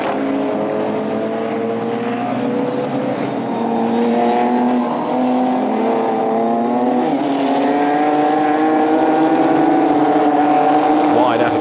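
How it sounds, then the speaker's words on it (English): GT4 race cars, including a black Aston Martin, a Ginetta and a BMW, racing at the Nürburgring in 2014, their engines droning loudly and rising in pitch as they accelerate, under a commentator's continuous talk. "Down towards turn 1 goes Retzlaff in the black Aston Martin"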